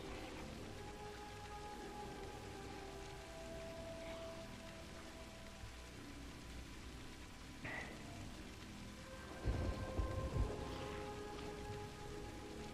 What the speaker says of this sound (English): We don't want to be in this storm, though.